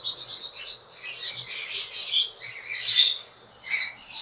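Conure parrots, including a blue cinnamon male and a pineapple high red female, chirping in a pet shop in Islamabad; shrill bursts of calls come in clusters with short pauses, close and fairly loud.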